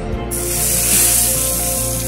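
Hot oil tempering is poured onto tomato chutney and bursts into a loud, close sizzle that settles into a steady, intense hiss, with a low hum underneath.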